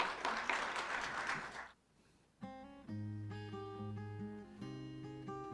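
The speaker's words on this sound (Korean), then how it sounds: "박수." Congregation clapping in a church service, a short burst of applause that fades into a brief silence, then gives way to sustained tonal music.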